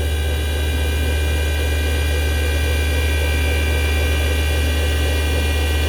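A machine cuts a hard chrome alloy fabricated 9-inch housing, producing a loud, constant droning hum with a steady tonal whine and no variation or speech.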